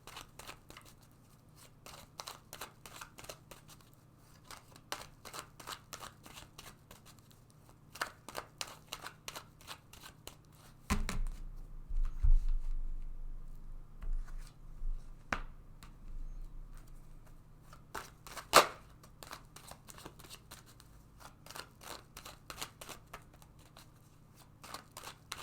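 Tarot cards shuffled by hand in a quiet room, a steady run of soft, rapid riffling flicks with a few sharper taps and a brief low thud partway through.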